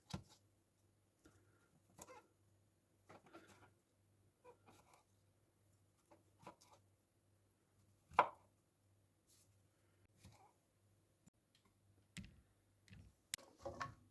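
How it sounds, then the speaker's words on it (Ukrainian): Mushrooms are sliced thinly with a knife on a board, giving sparse, separate knife chops at an uneven pace, close but quiet, with a steady low hum underneath and no talking. "Гриби нарізаємо тонкими пластинками"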